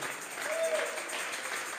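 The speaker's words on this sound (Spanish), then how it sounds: "Vamos a regalarle ofrenda de palmas al Dios de la gloria." Church congregation applauding during a Spanish-language sermon, a brief, moderately loud wash of clapping heard at a slight distance.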